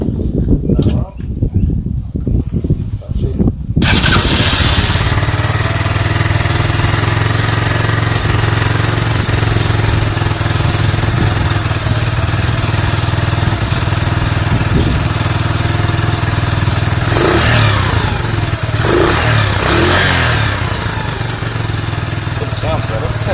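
A Sinnis SC125 motorcycle engine, with a bolt just fitted at the end, starts after a few seconds and then runs loud and steady near the microphone, hanging on its revs with a few throttle swells.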